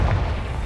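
Confringo fire spell explosion in the video game Hogwarts Legacy, a short, loud, low rumbling boom that fills the whole moment without any voices.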